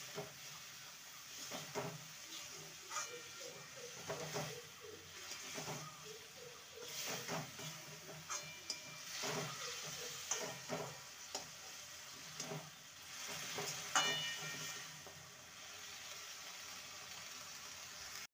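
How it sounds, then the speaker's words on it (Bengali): Drumstick vegetables being stirred and sautéed with chilli powder and spices in a pan, a soft low sizzle broken by repeated scraping, clinking strokes of a spatula. "সবজির সাথে মশলাকে ভালো মতন কষিয়ে নিয়েছি"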